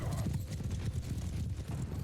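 Horse hooves pound during a battle in Mount & Blade II: Bannerlord, a dense, continuous low rumble of galloping clip-clop with no clear individual beats, steady and moderately loud throughout.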